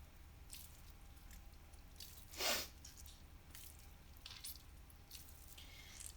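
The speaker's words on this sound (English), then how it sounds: "now you want to again squeeze water out of it" A wet squelch and brief burst of dripping water as paper pulp is squeezed stand out in a quiet room, followed by faint scattered drips and soft handling noises.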